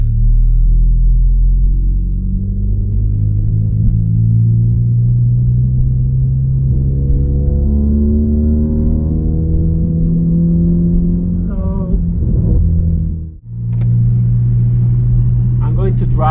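An 11th-gen Honda Civic Si on a Phearable 2.5 race tune with flex fuel rumbles low and close from inside the cabin, its engine note rising through a pull, then a brief drop at a gear change.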